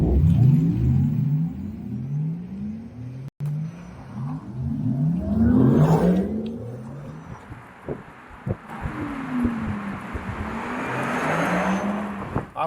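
A Porsche Taycan electric car, heard from inside the cabin, gives off a futuristic whirring drive sound that rises and falls in repeated sweeping tones, with a loud, steady presence and no talking.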